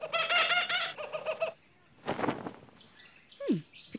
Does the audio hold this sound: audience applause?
no